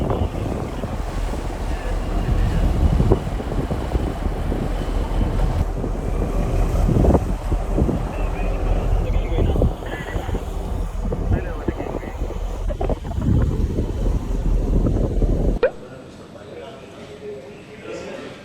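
Strong wind and high waves around a very large ship in bad weather, a continuous loud roar of gusting air and surging water that drops away abruptly near the end.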